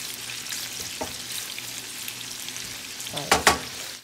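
Bacon frying in a pan for haluski gives a steady close sizzle and crackle, with a couple of louder stirring scrapes near the end.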